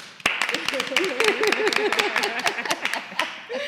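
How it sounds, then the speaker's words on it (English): A small audience gives a hand clap of praise, with a burst of sharp, separate claps rising and scattering over a few seconds while people talk and call out underneath. "let's give a hand clap of praise for Sister Dorothy"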